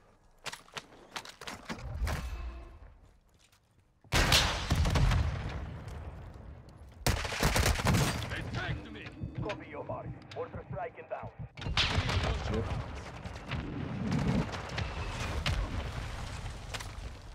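Gunshots in a multiplayer shooter game, with loud bursts of gunfire breaking out in several clusters among quieter stretches, and players talking over the action.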